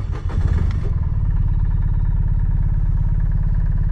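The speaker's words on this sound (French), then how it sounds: "on va lancer ce petit moteur" A Ligier JS50 microcar's small engine starts on a parking lot, a short clattery crank catching into a fast, steady, buzzy idle that runs on evenly, close and loud.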